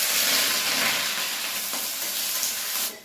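Duck meat frying in a pan sizzles loudly and steadily with a dense hiss, then drops away abruptly just before the end, with no talking.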